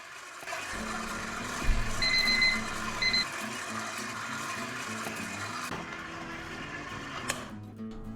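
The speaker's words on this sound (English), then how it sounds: "using the dough hook, knead for 10 minutes. While that's running" A stand mixer fitted with a dough hook kneads bagel dough, giving a steady motor whir with a repeating churning pulse and a couple of brief high beeps early on, heard close and continuous.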